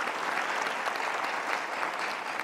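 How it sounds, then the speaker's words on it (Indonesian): Steady applause from a television studio audience on a Mata Najwa talk show fills the whole stretch, dense and even with no voices over it. "Kita kasih tepuk tangan dong."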